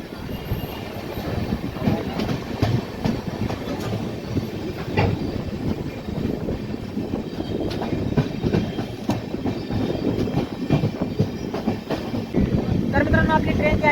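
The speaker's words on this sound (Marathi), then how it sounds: "आपली ट्रेन जी आहे ती लोणावळा रेल्वे स्टेशनवरून निघालेली आहे" Deccan Queen Express pulling out of Lonavala station in heavy monsoon rain, wheels clacking steadily over rail joints with coach rumble and occasional squeal, steady and close throughout.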